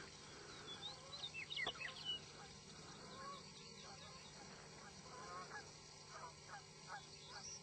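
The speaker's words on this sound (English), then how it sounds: "You hear the geese?" Geese honk repeatedly in the distance, a scattered series of calls over quiet backyard ambience.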